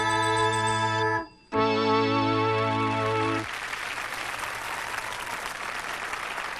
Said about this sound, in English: Don't clap, it'll only encourage them!